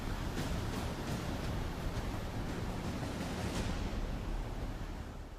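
Stormy sea waves surge in a continuous broad roar with wind, a steady wash of surf heard from nearby with no voices.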